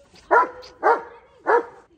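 A German Shepherd barks three times in quick succession, loud and close, with short pauses between barks.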